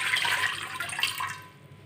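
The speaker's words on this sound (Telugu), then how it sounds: "వాటర్ యాడ్ చేసుకుందాం." Water pours steadily into a bowl of finger millet flour, a close, continuous splashing trickle that tapers off toward the end, with no voices.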